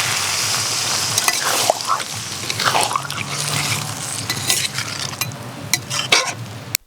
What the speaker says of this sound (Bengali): মশলা দিয়ে এসবটা 15 মিনিট মতো কষিয়ে নিয়েছি, এবার দিয়ে দেবো জল।